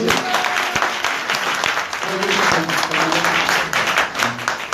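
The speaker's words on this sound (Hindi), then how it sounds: "अब इन्हीं के लिए भी जोरदार ताली बजाएं।" Audience applause during a Hindi religious discourse, a sustained dense clapping from a large crowd that fills the whole stretch at strong volume, with faint voices mixed in.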